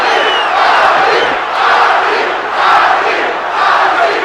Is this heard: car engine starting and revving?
no